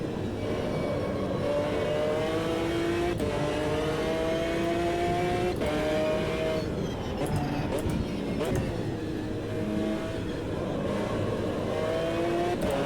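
GT1 race car in Automobilista 2 revving and shifting through gears, engine note climbing repeatedly with sharp upshifts, steady and loud under a voice.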